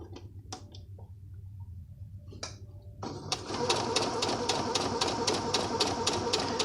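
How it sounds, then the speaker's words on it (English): Sewing machine back stitching a scallop waist skirt: a few faint clicks, then a steady rapid chattering run of stitches starting about halfway through, close and fairly loud. "I'll stitch this one in so you could at least see the difference. Again, back stitch."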